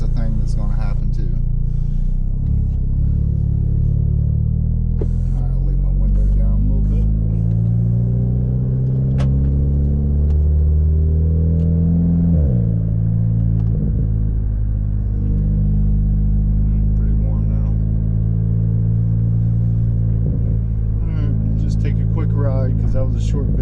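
A VW CC with a newly replaced turbo diverter valve rolls along on a test drive, its engine a steady low cabin rumble that swells as it accelerates, with a person talking throughout.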